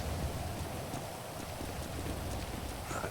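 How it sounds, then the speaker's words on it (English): Steady rain hisses down in the GTA V video game, a dense even wash with no pauses and no voices. "let's get out of this rain."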